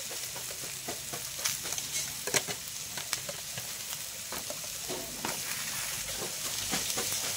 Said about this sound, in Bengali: পুঁই শাকটা দিয়ে কিন্তু আমি আর অল্প একটু ভাজবো, তারপরে জল দেব।